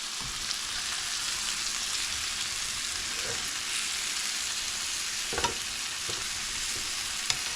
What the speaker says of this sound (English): Let me flip it.